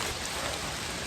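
Steady rain falls on a mountain trail above the second post of the Batukaru climb in Bali, a dense, even hiss of drops that holds unchanged throughout, with no voices.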